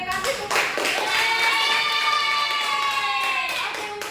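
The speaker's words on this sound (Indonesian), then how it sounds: "kasih tepuk tangan" A burst of lively applause from a small classroom group, steady hand clapping that swells and then tapers off, with a few children's voices.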